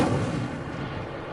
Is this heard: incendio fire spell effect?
yes